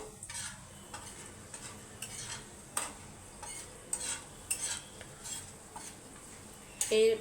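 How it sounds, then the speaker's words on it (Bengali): Small pieces of cinnamon, with split cardamom and cumin, fry in hot oil in a pan for a Bengali bhetki fish kalia, giving a soft steady sizzle broken by repeated scraping stirs of a spoon against the pan. "কয়েক টুকরো দারচিনি দিচ্ছি একটু নাড়াচাড়া করে নেবো"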